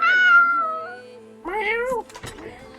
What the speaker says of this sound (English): That is exactly how a sad kitty sounds